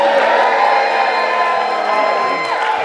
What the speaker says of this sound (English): Can everybody cheer for me?